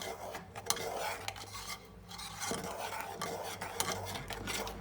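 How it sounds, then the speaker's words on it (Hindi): Spoon scraping and stirring thickening milk in a cooking pot, soft rhythmic metallic rubs and clinks at low volume with no talk. "और चम्मच जो है वो बराबर चलाते रहेंगे।"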